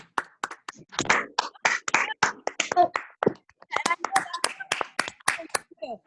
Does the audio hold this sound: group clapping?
yes